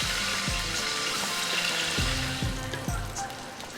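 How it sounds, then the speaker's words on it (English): Shallots and curry leaves saute in hot coconut oil with a continuous crackling sizzle, punctuated by a few dull thumps and knocks from the pan. "I heated some coconut oil and sauteed enough shallots along with curry leaves."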